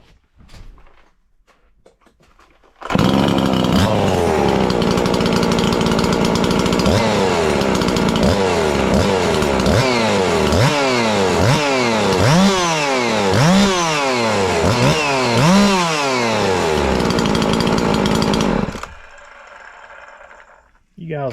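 A chainsaw with a ported engine and a modified muffler pulls over and starts, then runs loud and close for about fifteen seconds with repeated throttle revs, before cutting off to quiet.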